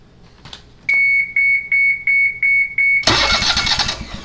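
Eight rhythmic electrical beeps pulse while the small engine of a Bush Hog zero-turn mower cranks, then it catches and sputters into a rough, loud run.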